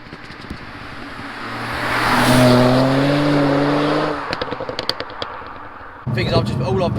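A tuned Stage 2+ BMW 135 coupe accelerates hard, its engine note climbing and swelling loudly for a couple of seconds before fading, followed by voices talking.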